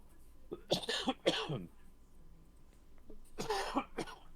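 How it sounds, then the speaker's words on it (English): Two short bursts of coughing, close and fairly quiet, separated by a pause, with no talk during the clip. "This cough."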